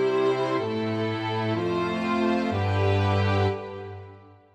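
A string section sustains four chords in turn, smooth and full, each chord held about a second before shifting to the next, the last swelling slightly then fading out.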